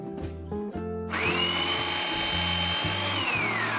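A Preethi Zodiac Cosmo mixer grinder slices on pulse, its motor whining up to a loud high steady whir after a few short bursts and sharp clicks, then winding down.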